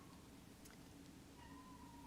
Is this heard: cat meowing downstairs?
yes